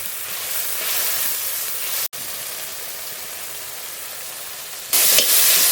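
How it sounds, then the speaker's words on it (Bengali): Spice paste of cumin, green chili, salt and turmeric sautéing in a pan with a little water, giving a steady close hiss that briefly cuts out and then swells louder near the end. "মশলা হালকা করে কষিয়ে নিয়েছি"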